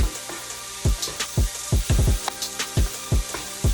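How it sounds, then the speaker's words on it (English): Chopped vegetables and pecans for vegan dirty rice are sautéed in a pan, with a constant sizzle broken by repeated sharp spatula scrapes in an uneven rhythm, close and clear with no talking. "You're just gonna saute this until your veggies get all cooked up and those pecans get a little bit softer"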